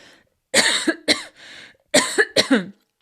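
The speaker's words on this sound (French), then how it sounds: "Alors, je vais tousser." A person coughs several times in two clusters, loud and close, with harsh throaty bursts separated by short pauses.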